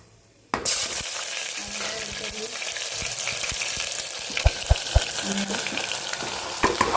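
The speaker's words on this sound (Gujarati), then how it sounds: "ચલો રાઈ આપણી થઈ ગઈ છે. હવે આપણે એમાં હિંગ એડ કરીશું." Mustard seeds and asafoetida hit hot oil in a home kitchen, bursting into a loud, dense sizzle that continues steadily, broken by a few sharp clinks and taps of a spoon against the pan.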